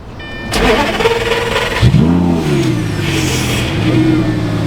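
A Lamborghini engine cranks and fires into a loud, close roar, then a rev rises and settles into a strong steady idle.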